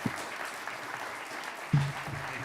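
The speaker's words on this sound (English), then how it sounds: "And one last time, a round of applause for Mayor Haila." A crowd applauding Mayor John Haila of Ames, a low, steady patter of clapping heard from a distance, with a brief louder thump near the end.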